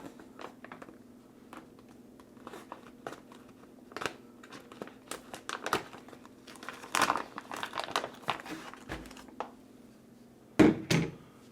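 A ration package is cut open and handled, with close crinkling and crumpling of plastic wrapping in scattered bursts over a faint steady hum, ending in a sharper rustle.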